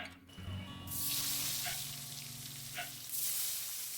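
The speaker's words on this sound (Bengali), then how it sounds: "ওই তেলেতেই বাকি মাছগুলো আমি ভেজে নেব।" Sarputi fish frying in oil in a pan gives a continuous, close sizzle that swells into louder hissing bursts with a few sharp spits, and no talking.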